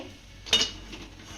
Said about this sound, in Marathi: आता यामध्ये मी शेवईचं ताट ठेवून घेते